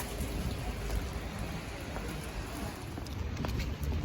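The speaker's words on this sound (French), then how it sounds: "Il pleut." Steady rain falling, a dense, even patter with a low rumble underneath, continuous throughout with no voices.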